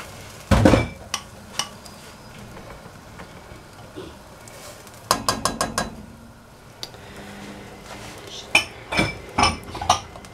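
Chopped onion and garlic being stirred in a pan for a lasagna, a utensil clinking against the metal in short bursts of scraping and tapping over a low sizzle, with a few louder clusters of knocks.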